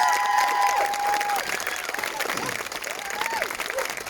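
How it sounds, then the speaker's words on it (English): A round of applause at a horse trials press conference, a dense patter of clapping and some cheering running through the whole stretch, with talk layered over it. "Let's give them a round of applause."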